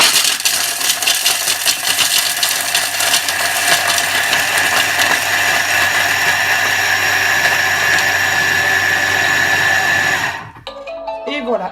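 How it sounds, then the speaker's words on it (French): A Thermomix at speed 8 grinds chocolate squares into powder for ganache, giving a loud, steady whirring and rattling roar that runs continuously, then cuts off abruptly near the end and leaves a quiet tail. "on le réduit en poudre avant de pouvoir faire la ganache"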